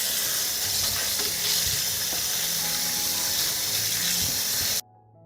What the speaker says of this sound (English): I'll wash the cherries first.